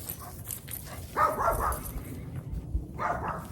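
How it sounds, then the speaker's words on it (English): Dog barking in a backyard, a few short yips and barks in two bursts, moderately close over a low ambient background. "just bear with me with the dog barking"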